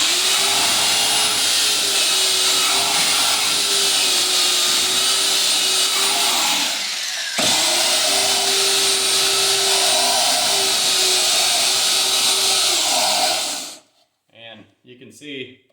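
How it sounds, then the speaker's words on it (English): A power sander grinds steadily against the corners of a wooden beehive box, its belt clogged with propolis, loud and close with a continuous whine, pausing briefly midway before stopping near the end. "I use a sander on the opposite corners."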